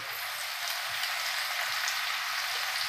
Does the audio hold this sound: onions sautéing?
yes